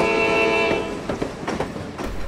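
A train runs along the track, starting with a sustained tonal horn that fades and gives way to rumbling, rattling carriage noise for the remaining couple of seconds.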